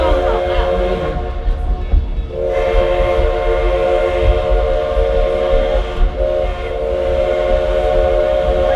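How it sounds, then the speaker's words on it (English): The steam whistle of an 1880 train on the Black Hills Central Railroad blows in long, loud sustained blasts, with a short gap between them, over the steady rumble of the rolling train. "Now, folks, you probably heard that whistle blow."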